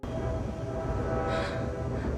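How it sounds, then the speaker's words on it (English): A train passes at night, a dense steady low rumble with wheel and rail noise holding throughout, a brief brighter hiss in the middle, with no voices. "hears a passing train"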